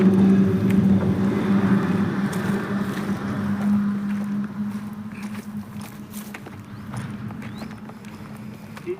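Tractor hauling a small dumping trolley, its engine giving a steady low droning hum that eases slightly in loudness toward the end, with faint clicks and no talking.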